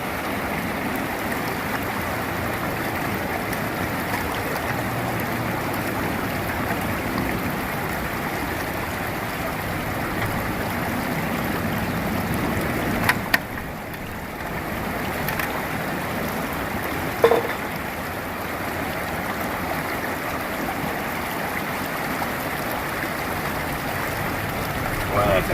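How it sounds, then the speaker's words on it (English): Dirt washes out of a bucket into a gold pan in a stream, with steady rushing water throughout, a couple of brief splashes and knocks, and muffled talk now and then. "I'm gonna wash this out into the pan, and we're gonna see what we got."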